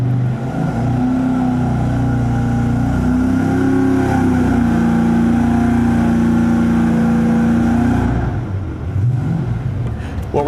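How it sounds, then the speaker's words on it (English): Cold EFI car engine idling fast on a dyno-test setup, a steady loud drone with a sustained hum that wavers slightly in pitch and drops off near the end. "What we're doing right now is looking at how the idle speed is really fast, and that might just be because it's cold"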